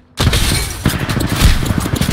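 Gunfire during an Apex Legends quickplay match: after a brief silence, a loud, continuous barrage of overlapping shots and impacts that stays intense throughout.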